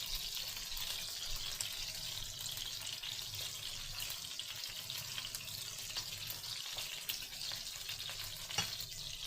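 Sliced sausage sizzles in a pan while being stirred, a steady, moderately loud frying hiss with faint scraping, no speech over it.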